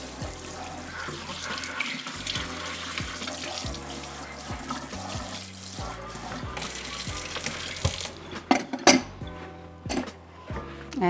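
Tap water runs steadily into a stainless steel sink during rinsing, a constant splashing hiss that breaks into irregular louder splashes and drips near the end, close by with no talking.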